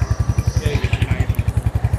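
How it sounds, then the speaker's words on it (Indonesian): A Royal Enfield Hunter 350 motorcycle engine runs close by with a loud, steady, rhythmic thumping pulse and a mechanical clatter above it. No one speaks. "ini kurang lebih suaranya mirip sama Royal Enfield Classic 350 ya"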